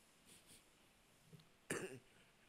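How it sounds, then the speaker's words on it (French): A single sharp cough bursts out, brief and close, after a stretch of quiet room tone. "Excusez-moi, je tousse un peu."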